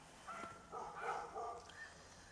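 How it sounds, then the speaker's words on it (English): Several dogs bark in short, faint bursts somewhere in the distance, scattered over about two seconds against a quiet outdoor background. "Lots of barking dogs."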